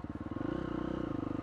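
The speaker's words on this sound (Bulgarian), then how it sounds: "Самия мотор вибрира много, както всички кросови мотори и ендуро мотори." A KTM SX-F 350 motocross motorcycle ridden through a forest, its engine throbbing loudly and close in a fast, steady pulse with a rough, vibrating edge and no other sounds.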